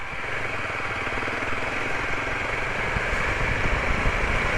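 A motorcycle on a long-distance ride to Côte d'Ivoire labours in deep sand near Diama, its engine droning loud and strained at a steady pitch, pulsing roughly as it bogs down.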